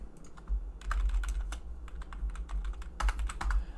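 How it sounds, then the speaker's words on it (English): Rapid typing on a computer keyboard, close and clear, with irregular bursts of key clicks over a low background hum and no talking. "Wait, PJ, you gotta type that one out."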